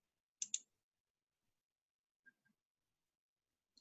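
Computer mouse clicks in a quiet room: a quick double click, then two faint isolated clicks a couple of seconds later, and another at the very end.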